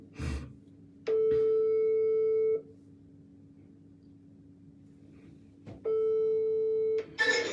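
An electronic phone ring tone plays as two long, steady tones separated by a silent pause, fairly clear and close, with a few brief noises at the start and the end.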